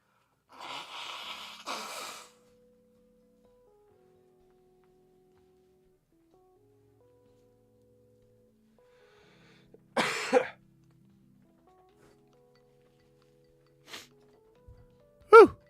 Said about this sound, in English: this is a little gross, but I have to blow my nose.